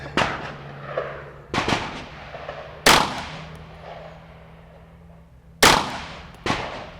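Pistol shots ring out at an outdoor shooting range, six sharp, loud reports spaced irregularly over several seconds, each followed by a brief echoing decay, with no talking.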